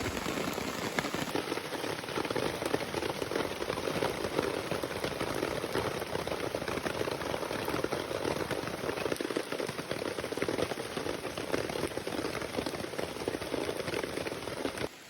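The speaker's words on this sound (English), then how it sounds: "I didn't think it was supposed to rain like this." Steady, dense rain pattering on a campsite along the North Country Trail between Sugar Bay and Hammond Run, a close, even hiss of drops with no voices, holding constant throughout.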